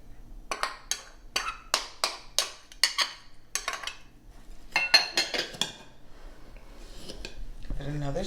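Parsley, mushrooms and onion stirred in a pan, a series of sharp metallic clinks and scrapes in an irregular rhythm, close and fairly quiet, tapering off toward the end with a faint low sound.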